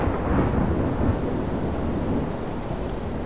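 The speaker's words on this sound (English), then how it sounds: "Grey skies, misty, damp air, and rain don't exactly gladden the heart" Steady, heavy rain pours down in the Bernese Oberland mountains of Switzerland with a dense hiss, while a low rumble of thunder rolls underneath throughout.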